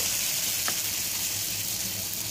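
Battered, flattened banana (pisang penyet) frying in hot oil, a steady continuous sizzle and hiss at moderate level throughout the short stretch with no talk over it.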